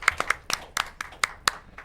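A few people clap for Frankie on a holiday variety show, sparse distinct hand claps in a loose uneven rhythm, close and fairly quiet, fading after a couple of seconds.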